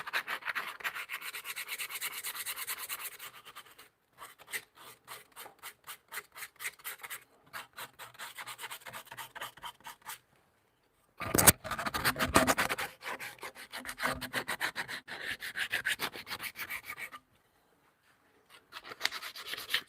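Hand file and sandpaper rasping on a leather sandal in a workshop, with rhythmic back-and-forth strokes, short pauses and a louder scrubbing burst, close and fairly quiet, no talking.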